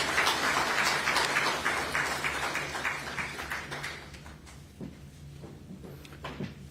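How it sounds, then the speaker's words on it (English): Audience applause for a speaker at a development conference: a broad, dense round of clapping that gradually thins and fades, leaving scattered claps and a few thumps near the end. "Please, a big round of applause for Tinashe."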